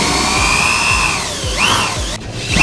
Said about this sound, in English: That smaller drill bit's basically just to make sure you drill in the correct